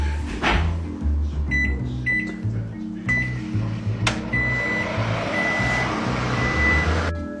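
A microwave oven running to melt butter, a loud steady hum with repeated electronic beeps and clicks, close by and mostly alone with faint voices.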